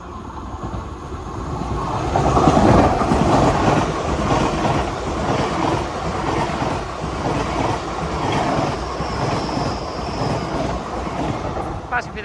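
Class 802 train 802.109, bound for London Paddington, rolls through Par station in Cornwall without stopping, a steady loud rumble and wheel roar that swells, then holds under wind noise.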